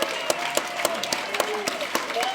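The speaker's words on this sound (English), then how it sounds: "give Kathy a round of applause" At a Marijuana Anonymous convention in San Francisco, the crowd applauds Kathy with dense, close clapping and a few cheers layered over it, the sharp individual claps standing out in an irregular rhythm.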